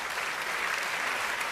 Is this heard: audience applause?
yes